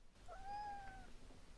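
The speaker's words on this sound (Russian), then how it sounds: "Вот опять мяуканье." A single drawn-out cat meow rises and falls over about a second, fairly clear against a quiet, hissy indoor background, with no voices.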